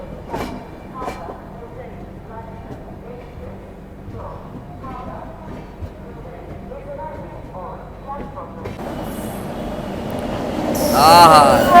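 Howrah New Delhi Rajdhani Express passing a station, a low rumble and rhythmic wheel clatter building over several seconds, swelling into a loud close roar with high squeal near the end; a voice comes and goes over it.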